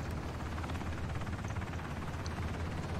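A helicopter in Ring of Elysium drones steadily with a continuous rotor chop, moderately quiet and unbroken throughout with no voices.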